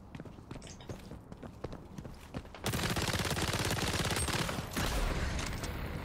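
Gunfire in the shooter game XDefiant: rapid sharp shots crack in a steady rhythm, thickening into a dense loud stream of fire midway, with no talk over it.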